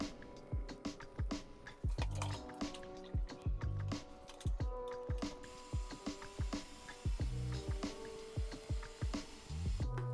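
Epoxy resin being scooped from a bucket into a cup makes soft, wet squishing and dripping sounds, a close, quiet series of irregular plops and drips with faint clinks.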